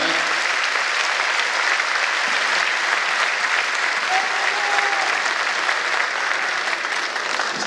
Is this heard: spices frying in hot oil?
no